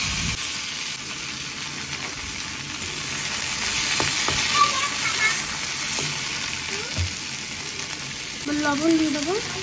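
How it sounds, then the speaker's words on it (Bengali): Bitter gourd slices frying in hot oil, a steady close sizzle throughout with faint stirring clinks, plus a brief louder clatter near the end. "তেল গরম হয়ে গেছে, এবার আমি উচ্ছেটা ভেজে নেব।"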